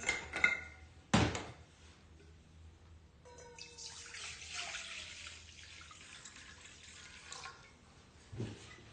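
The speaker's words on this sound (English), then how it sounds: "get some fresh water poured." Water from a tap pours steadily into a basin, faint and hollow, after a couple of soft bumps and a sharp knock near the start, with another light thud at the end.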